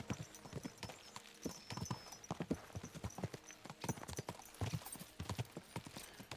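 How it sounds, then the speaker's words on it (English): Horse hooves clip-clop in a steady trotting rhythm in Kingdom Come: Deliverance II, close and distinct, with a faint whinny-like tone briefly in the background. "Let's really spur these horses on, eh?"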